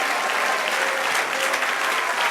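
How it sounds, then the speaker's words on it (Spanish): A church congregation applauds during a Spanish-language worship service, with dense, sustained clapping filling the room at a constant loud level throughout. "Denle otro aplauso al Señor."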